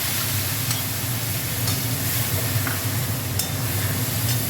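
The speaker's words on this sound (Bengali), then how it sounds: "এবার এই ঝোল জিরে আর এটা মশলাটা দিয়ে দেবো" Cumin and spice paste hit the hot pan of fried hilsa for a Padma ilish curry, setting off a loud, continuous close-up sizzle with occasional stirring scrapes.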